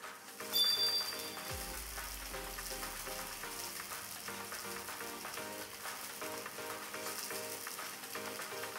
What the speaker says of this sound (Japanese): 片面をがっつり焼き付けて